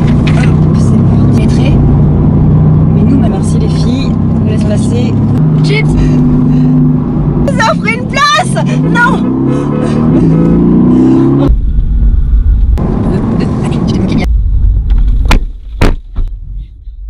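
A Mercedes-Benz GTS drives a Tour de Corse stage, with a steady engine drone rising and falling through the run and a sharp revving burst near the middle. People talk over it throughout, and the engine cuts out toward the end.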